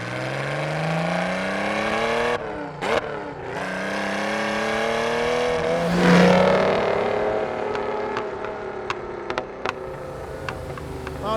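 A Ferrari 212 engine revs on a hill drive, a loud, steady harmonic drone that rises in pitch, dips sharply twice around gear changes, then swells again with a brief surge before settling into a sustained cruise; no one speaks.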